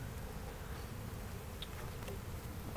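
A steady, dense buzzing of many agitated honeybees fills the air continuously, close and moderately loud, with no voices.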